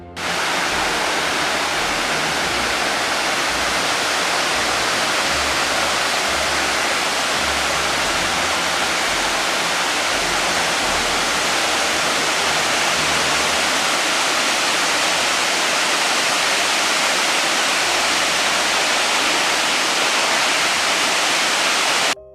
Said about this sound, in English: this is one of Africa's largest waterfalls. It doesn't just fall, it crashes.